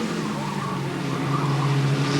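A Barber Saab Pro Series race car spins out on the West Palm Beach street circuit, a loud continuous engine drone with tyre-scrub noise, close and unbroken.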